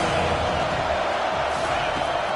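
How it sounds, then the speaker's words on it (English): Home crowd roaring in a college football video game, Clemson against Arkansas, a dense steady wall of cheering held at full volume throughout with no clear breaks. "how nice is it to have the home crowd going absolutely bananas"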